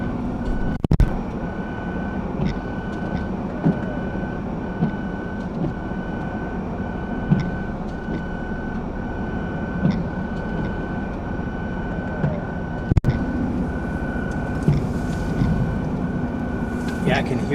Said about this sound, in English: I can hear that blower motor. She's struggling. She's got a bad bearing.